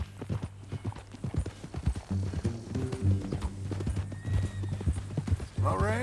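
Horse hooves clip-clop in a steady, plodding rhythm in the video game Red Dead Redemption 2, with a brief whinny and people talking over them.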